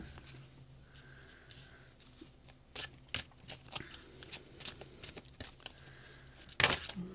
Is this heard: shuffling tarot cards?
yes